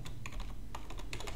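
Computer keyboard typing a fastboot flash command, a quick run of light, close clicking keystrokes in an irregular rhythm, faint and alone.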